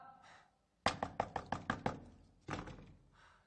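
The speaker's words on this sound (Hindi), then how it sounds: "अरे हम इतनी देर से नॉक कर रहे हैं, कम से कम अब तो उसे दरवाजा खोलना चाहिए।" Quick series of seven knocks on a closed door, sharp and close, with a second short burst of knocking after a pause; a voice is faintly heard before the knocks begin.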